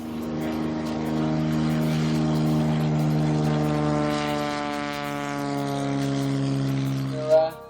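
A small single-engine propeller plane taxis at a remote Arnhem Land airstrip, its droning engine loud and near, holding steady and swelling slightly before a short bump at the end.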